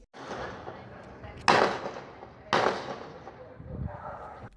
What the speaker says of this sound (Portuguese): O som dos disparos foi registrado por um vizinho